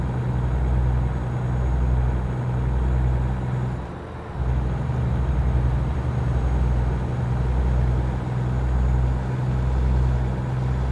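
A heavy truck engine in American Truck Simulator labours up a steep hill, a loud, continuous low drone with a rhythmic pulsing throb and a brief dip partway through.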